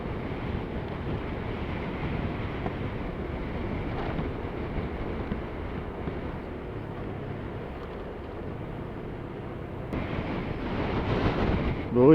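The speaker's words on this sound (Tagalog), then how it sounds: "Uy, grabe, lakas ng hangin" Steady, roaring strong wind buffets the microphone throughout while riding a Honda Beat V2 scooter, a dense low rumble that swells louder near the end.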